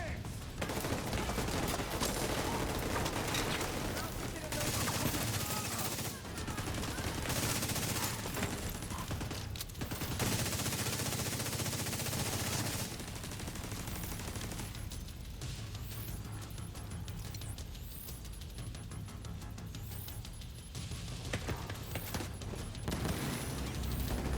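Gunfire in The Division 2 in a Manhattan City Hall fight, dense bursts of automatic fire and single shots that keep up with short pauses across the whole stretch, loud and close with mechanical clatter between volleys.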